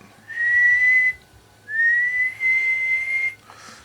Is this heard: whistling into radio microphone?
yes